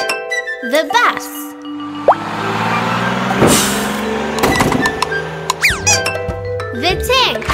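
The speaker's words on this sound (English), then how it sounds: "The bus!" A cartoon bus with air brakes gives a short hiss of released air midway through, set among lively sing-song voices, chimes and bright children's music.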